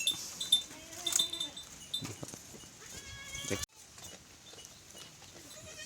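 Goats bleat on a Thai farm where does and kids are kept, a few wavering calls standing out against a noisy outdoor background with some nearby talk.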